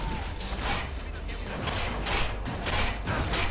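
Rapid gunfire in the video game Watch Dogs, a dense burst of repeated shots with dull impacts running continuously over a noisy game background.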